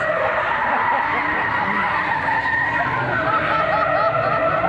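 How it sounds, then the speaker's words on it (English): A drifting car with a custom exhaust dragging on the ground at a night drift event at Fritidsparken in Skien, giving a loud, continuous skidding roar of engine and tire scrub throughout. "Look at his exhaust dragging, dragging on the ground."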